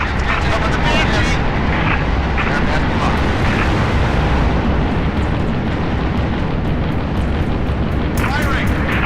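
In the Halo Reach campaign mission Long Night of Solace, a Banshee aircraft roars overhead among booming explosions and gunfire, a loud dense wash of engine noise and blasts lasting the whole stretch, with radio chatter under it.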